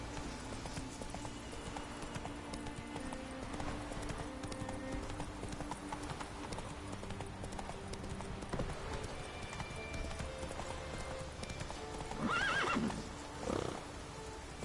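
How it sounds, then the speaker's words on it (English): Horse hooves clip-clop and a horse neighs in the video game The Witcher 3, with rhythmic hoofbeats throughout and a short whinny near the end, fairly faint overall. "Whoa there, Roach."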